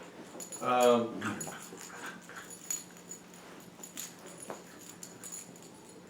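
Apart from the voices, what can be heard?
dog squeaking and growling while playing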